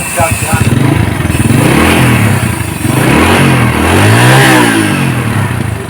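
A Honda Astrea Prima motorcycle engine with a rough-running fault revs roughly, rising and falling a couple of times, loud and close, with a person talking over it.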